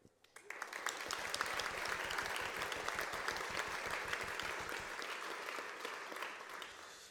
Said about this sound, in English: there's going to be one more round of applause